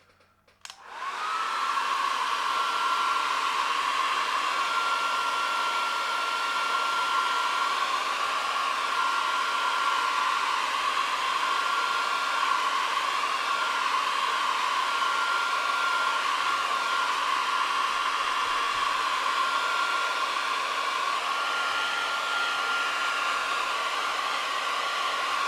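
A hair dryer runs steadily and loudly for about 25 seconds, drying a watercolor painting, with a steady whirring tone and no talk.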